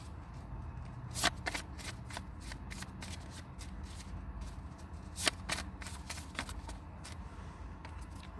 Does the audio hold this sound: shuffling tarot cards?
yes